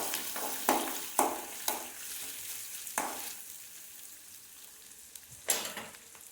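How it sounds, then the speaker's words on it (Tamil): Small shallots sautéing in a pan, a steady sizzle broken by several sharp stirring scrapes and clatters spread across the clip, close and fairly quiet, with no talking. "சின்ன வெங்காயம் உடலுக்கு நல்லது. அதை போட்டு நல்லா வதக்கிக்கோங்க."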